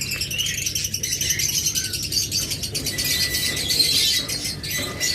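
Pet birds from a breeding pair chirp steadily in rapid high twittering, close and fairly loud, with a constant background hum and no voices.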